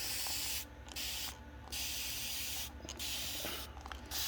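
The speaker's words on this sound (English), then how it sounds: "I just spray, just like that, I spray the air roots" Several short bursts of a spray bottle hissing, close up, spraying worm tea onto dragon fruit air roots and stems, separated by brief pauses, over a steady low background hum.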